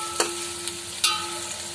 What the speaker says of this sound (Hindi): अब हमारा तेल गरम हो गया, अब इसमें हमने जो प्याज काट के रखे थे वो हम इसमें डाल देंगे